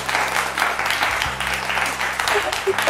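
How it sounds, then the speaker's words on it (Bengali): An audience at a family Dhanteras celebration show breaks into a brief burst of clapping under a continuous musical tone, with the crowd loud and close. "আর হাততালি হয়ে যাক"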